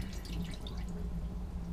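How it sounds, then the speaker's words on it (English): Rinse water draining from rinsed sushi rice, a steady soft trickling and dripping stream that runs continuously without a break, with no talk over it. "Rinse. So we're just going to drain it."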